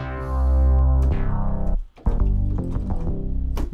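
A layered bass sound built from several stacked instruments, thick and punchy, with a long swelling low note that drops out briefly and then returns as a busy, driving pattern of distorted low hits.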